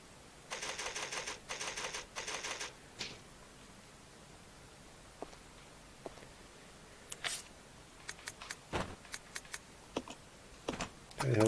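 Typewriter keys clatter in bursts within the Resident Evil Zero video game, rapid mechanical clicks in a quick run followed by scattered taps and a few sharper strikes, fairly faint and without talk.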